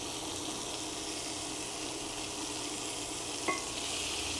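Shallots sizzling in butter in a pan while crab cakes are prepared, a steady close frying hiss with one brief clink near the end, no voices.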